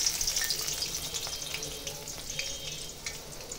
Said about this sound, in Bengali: তেলের ভিতরে গরম পেঁয়াজ ছেড়ে দিলাম